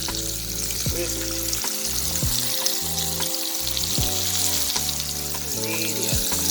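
Steady, loud sizzling of St. Louis style ribs frying in hot oil, a continuous crackling hiss with occasional pops and clinks, no talking.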